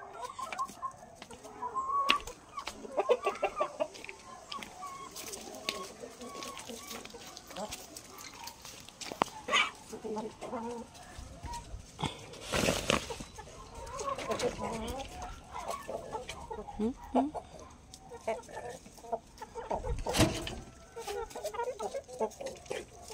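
Hens and a rooster on a farm cluck and call in bursts while laying eggs, fairly close and moderately loud, with people talking over and between the calls.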